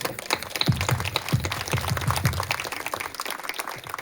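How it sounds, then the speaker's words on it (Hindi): Steady audience applause at a special school's annual function, dense and continuous hand clapping from a crowd, fairly close and sustained for the whole stretch. "हम सब ताली बजाकर बधाई देंगे"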